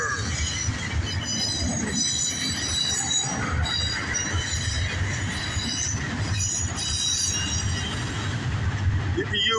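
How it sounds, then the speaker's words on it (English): CSX intermodal double-stack freight train rolls past on Washington Street in Dayton, Ohio, with loud, continuous rumbling and high, sustained wheel squeal throughout, heard close by while someone talks over it. "CSX double stack in full effect. Here in Dayton, Ohio."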